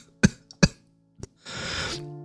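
A woman coughs in two sharp, close bursts, then gives a smaller cough, followed by a raspy, breathy wheeze.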